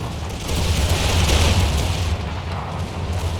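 Artillery fire in the Empire: Total War 2 video game battle, a loud rumbling explosive boom swelling within the first second and rolling on as a sustained low roar for several seconds.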